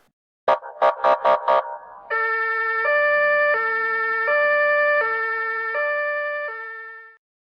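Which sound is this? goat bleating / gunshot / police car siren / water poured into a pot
police car siren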